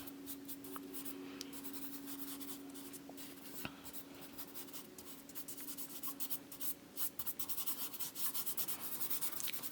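Soft pastel scratches and rubs across archival sandpaper in close, quiet strokes, a steady gritty scraping that turns into short, rhythmic back-and-forth scrubs toward the end, with a faint steady hum underneath.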